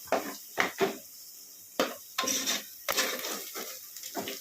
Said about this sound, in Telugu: బాగా దూరగా వేయించుకోవాలి దూరగా వేయించుకున్న మసాలా